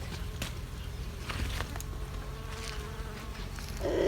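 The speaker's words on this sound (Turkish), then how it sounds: "arı çiçeği çok sever" A faint, steady bee buzz drones on outdoors in a garden, close and continuous, with a few soft taps and rustles underneath.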